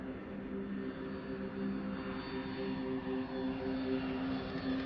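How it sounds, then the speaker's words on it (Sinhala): In the zombie survival game The Fall, a plane drones overhead with a steady, even engine hum that holds for several seconds without any speech. "ප්ලේන් එකක් යනවා"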